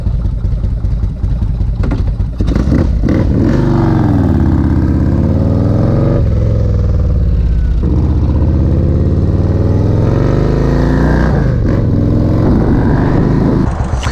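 A motorcycle engine runs loud and close throughout, rising and falling in pitch through several revs during a quick spin after a wash, with no talking.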